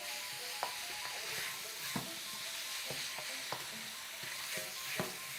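Beef and vegetables coated in corn flour and soy sauce sizzling steadily in a hot pan, with scattered sharp clicks and scrapes of stirring over a continuous hiss, no voices.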